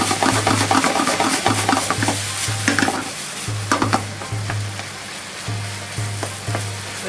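Meat and vegetables stir-fry in a pan for a Japanese-style meat sauce, a steady broad sizzle broken by repeated scraping and tossing strokes of the spatula, close and loud, with a low background hum.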